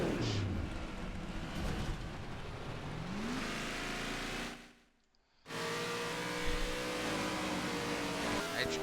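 Race car engine in the video game NASCAR '15, droning steadily with rising and falling revs, briefly cutting out partway through before the loud engine tone returns.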